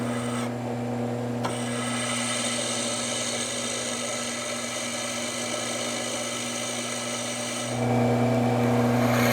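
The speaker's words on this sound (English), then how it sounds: "Now we're going to perimeter grind the shape." A steel knife blank being perimeter ground to shape on a belt grinder gives a continuous abrasive rasp over a steady motor hum, close and even, with a brief change near the start and a louder hum at the end.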